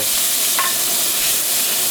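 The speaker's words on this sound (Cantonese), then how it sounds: "炸鹹魚或者係煎鹹魚" Salted fish fries in hot oil in a smoking wok, giving a loud, close, continuous sizzle with a dense steady hiss and no voices.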